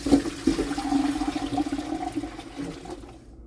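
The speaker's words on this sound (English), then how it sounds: "I want to drain these now and get them in a pot." Liquid pours and gurgles steadily as a batch of pickles is drained for cinnamon red hot pickles, close and continuous before tapering off near the end.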